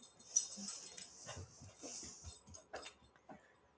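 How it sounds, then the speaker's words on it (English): A dog whimpers and pants indoors, soft high whines and short snuffling sounds coming close in quiet bursts over a few seconds. "my dog just came in here"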